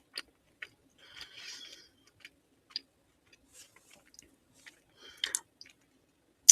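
Crunchy bites and chewing on a kosher dill pickle, heard as scattered short crisp clicks and squishes with pauses between, close and quiet, with no talking.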